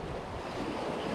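Wind and waves at sea off a fishing spot, a steady broad rush of surf and wind noise buffeting the microphone, with no voices.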